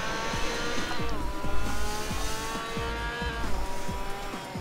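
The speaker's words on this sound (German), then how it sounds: "denn so klingt wirklich nur ein Panos. Zumindest wenn man den Motorsound betrachtet." Panoz race car engine roaring loudly and continuously in the Total Immersion Racing video game, with repeated gear-change dips and rising revs, some tire squeal mixed in, close and steady throughout.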